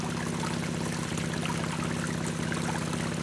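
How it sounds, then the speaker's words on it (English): Water runs steadily over a Gold Hog Razorback sluice mat, a shallow quarter- to half-inch flow across the riffles that gives a constant, fairly loud rushing wash with no pauses. "There's right now between 1/4 and 1/2 inch of water flowing over the largest riffle on the Razorback mat right now."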